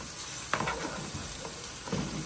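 Pieces of pork belly drop into a pressure cooker for torresmo, giving a steady soft sizzle with a few sharp splashes and crackles, close and alone.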